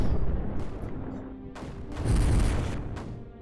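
Mortars firing in the video game Creeper World 4, heard as two deep, muffled booms with rumbling tails and smaller thuds between them, fairly close and loud.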